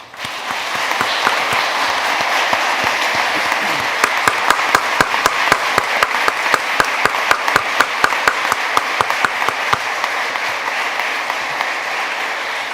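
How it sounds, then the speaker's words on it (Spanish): A large audience at a swearing-in ceremony for new lawyers before the Supreme Court applauds, with steady, dense clapping that fills the hall for over ten seconds, individual claps standing out near the end. "Aplaudamos este logro."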